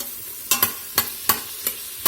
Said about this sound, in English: We're going to let these saute here a few minutes.